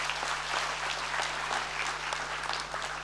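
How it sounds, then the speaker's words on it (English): Applause from a school assembly audience welcoming new Year 7 boys, steady dense clapping throughout with a low constant hum beneath it. "Let's give him a round of applause."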